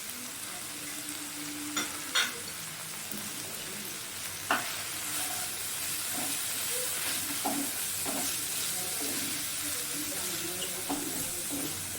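Egg curry masala with ground coriander, cumin and other spices stir-frying in oil in a pan, a steady sizzle and hiss with a few sharp spatula scrapes and clinks scattered throughout.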